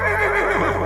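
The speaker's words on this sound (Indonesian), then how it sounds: "Ringkikan kuda" A horse neighing sound effect: a brief, loud, shrill whinny that sits close and fills the moment over a low steady hum, with no voices.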